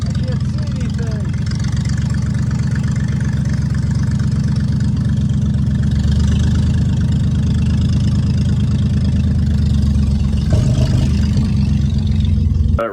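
A 1962 Chevrolet Corvair, restarted after forty years of sitting, runs steadily while being driven, its low engine drone continuous and close throughout, with faint talk mixed in.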